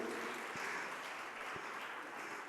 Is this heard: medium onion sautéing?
no